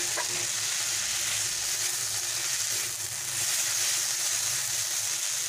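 Water spinach frying with slit green chilies in a pan, a steady, loud, close sizzle and hiss that continues without a break and has no talk over it.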